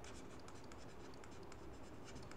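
A pen scratches continuously across paper while an electrical circuit resistance problem is worked out, a steady close-up writing sound with no talking.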